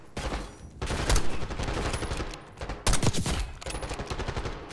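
Bursts of rapid machine-gun fire and gunshots in the video game Call of Duty Black Ops 6, loud and close, coming in several volleys with short pauses between them.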